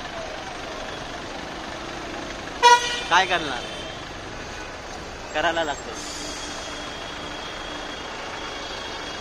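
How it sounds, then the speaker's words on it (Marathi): Heavy road traffic with trucks in Bhiwandi, a steady engine drone with a short cluster of horn toots near the middle and another later, while a person talks over it throughout. "पूर्ण ट्रॅफिकनी गजगज झाली"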